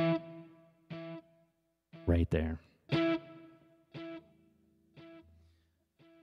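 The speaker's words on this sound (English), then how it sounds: "And you can hear that I have my delay turned up." Electric guitar through a multi-point delay effect plays separate plucked notes, each trailing off into distinct repeating echoes, with a voice briefly talking between the notes.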